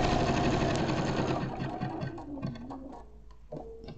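Sewing machine zigzag stitching a crazy patch basket, a close, fast mechanical whirr of the needle running continuously and then slowing and easing off, with no talking.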